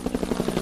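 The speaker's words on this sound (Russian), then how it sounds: "Наконец над верхушками деревьев показался вертолет, огромный, блестевший на солнце." A large helicopter approaches low over treetops, its rotor beating in a fast, steady thump with a buzzing engine drone, loud and close throughout, with no voices.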